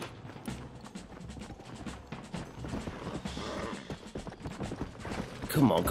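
In the Red Dead Redemption video game, horse hooves gallop in a rapid, continuous clatter. Game noise and a voice run over the hoofbeats, which build louder toward the end.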